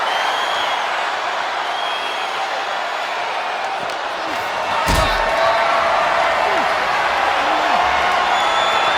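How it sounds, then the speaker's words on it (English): Wrestler slammed onto steel steps in the WWE 2K26 video game, a single sharp thud midway through a steady roar of the arena crowd, with commentary talking over it. "You heard the thud on the steps."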